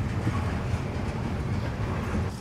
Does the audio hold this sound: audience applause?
no